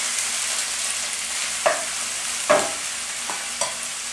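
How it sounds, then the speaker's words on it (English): Spinach sautéing in a pan for a pizza topping, salted, gives a steady soft sizzle with a few short, sharper clatters of stirring, close up and with no voices. "we're just going to let this saute for a while"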